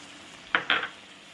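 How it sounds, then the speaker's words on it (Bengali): Stirring sauce into frying food in a pan, with two short scraping, clattering strokes of a utensil over a faint background hiss. "দিয়ে আবারও খুব ভালোভাবে নাড়াচাড়া করে নিচ্ছি"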